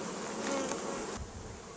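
Honey bees hum densely around a newly split hive, a loud continuous buzzing swarm close by with no voices.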